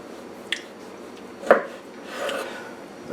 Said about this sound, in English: I always find you get a little start with the serrated blade and it goes on quite well